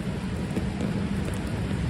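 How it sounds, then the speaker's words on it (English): Heavy rain pouring down in New York City during flash flooding, a dense, steady wash of close rainfall hissing on surfaces with a low rumbling undertone, without voices. "the rain is quite severe"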